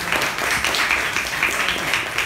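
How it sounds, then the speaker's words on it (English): Audience applause at a Toastmasters meeting, a steady wash of many hands clapping together without letup, fairly loud and close. "At least get a round of applause, right?"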